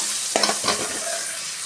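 Chopped onion and tomato sauté in a pan for a hotel-style white vegetable kurma. The steady sizzle runs close and alone, broken by a couple of quick scraping stirs.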